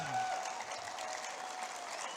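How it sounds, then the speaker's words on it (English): A crowd at the Western Bass Shootout fishing weigh-in in Sacramento claps in a brief, even burst of applause, full and sustained from start to finish. "Give a round of applause."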